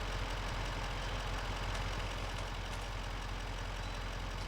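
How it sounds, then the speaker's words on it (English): An in-game tractor engine in Farming Simulator 25 drones steadily while pulling, a constant low rumbling hum with a faint mechanical knock, unchanging throughout. "You're pulling it with a tractor."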